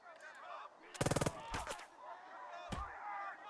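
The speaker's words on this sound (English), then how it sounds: "Now we shoot the shit out of them too." Bursts of gunfire at enemies in the war game Burden of Command: a rapid string of shots, a second cluster, then one sharp report, loud against a quiet background.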